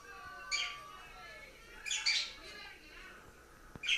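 Soft, quiet parrot chirps come in short bursts, a few bright calls spaced apart over a faint background hiss, close by.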